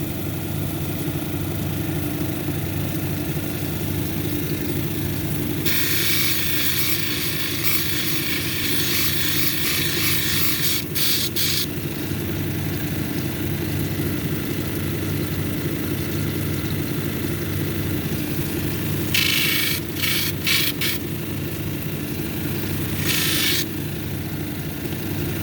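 A lapidary grinding machine hums steadily on a 280 grit wheel while a mahogany obsidian cabochon is shaped, with two stretches of harsher rasping grinding as the stone meets the wheel, close and moderately loud.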